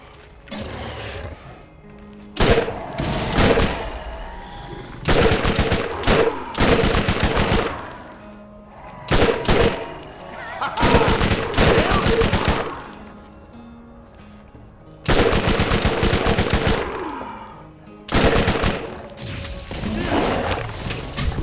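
A shotgun with a semi-circular drum-style magazine fires in rapid bursts, about seven loud volleys separated by short quiet gaps, close and punchy.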